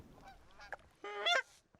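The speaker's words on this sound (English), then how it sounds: "The geese briefly fly within range," Geese honk as they fly past in a few short calls, the last ones louder and nearer, over a quiet outdoor background with no voices.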